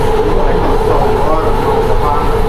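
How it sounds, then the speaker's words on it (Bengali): Steady, loud rumble of a metro train in motion in Qatar, heard from inside the carriage, with a continuous low drone and hum throughout. "আমরা এখন আছি মেট্রো রেলে, মেট্রো রেলের ভেতরে।"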